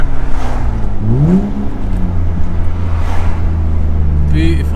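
A Lexus IS200 engine revs up with a rising, wavering growl that swells and settles into a steady idle hum, loud and close, while someone speaks over it.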